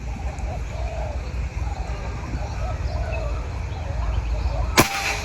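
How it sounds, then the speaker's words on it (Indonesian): One sharp, sudden crack of a Bocap Bogel Monster M3 air rifle shot near the end, after several seconds of quiet outdoor ambience with faint birds. "Oke, tembakan pertama kita mulai."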